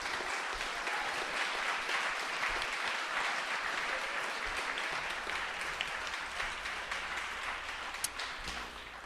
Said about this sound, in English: why don't you stand up for our applause?